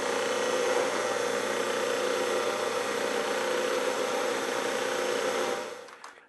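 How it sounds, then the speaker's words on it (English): A drill press bores through holes in quarter-inch plastic on a mini router fluting jig, giving a steady close motor whine with a cutting rasp that holds for several seconds, then spins down to a stop. "I might as well drill the through holes"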